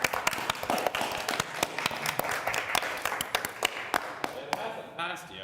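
Applause at a city arts commission meeting, a room of people clapping steadily in a dense, close patter that thins and fades near the end, with voices talking over it.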